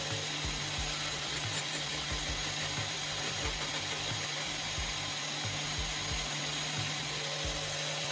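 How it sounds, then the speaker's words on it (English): A homemade angle grinder fitted with a spoon blade grinding beads into powder, a steady high motor whine with a rapid low rattling buzz, constant and close throughout. "The spoon blade rapidly pulverizes the beads."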